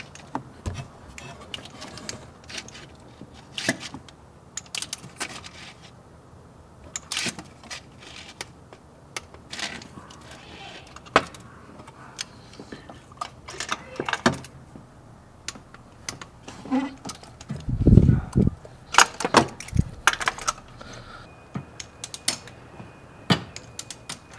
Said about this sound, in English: we're going to set the torque wrench to 13 foot-pounds and start torquing away